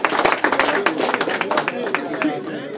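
A crowd at a battle rap event claps in quick, uneven bursts for a few seconds, close and lively, with voices and chatter underneath.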